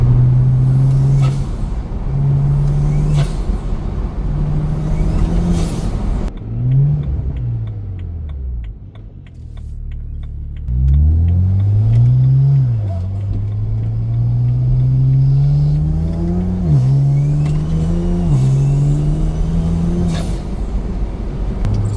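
A BMW 335 with a turbocharged N54 engine revs repeatedly, pitch climbing and dropping between gear changes, with a whooshing turbo hiss and a brief lull midway; loud and close.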